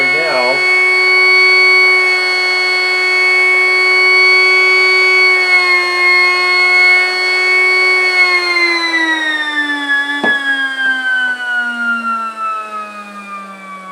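Dual mini window motors spin at 22,000 RPM with a loud, steady, high-pitched whine that holds for several seconds, then slowly drops in pitch as they wind down.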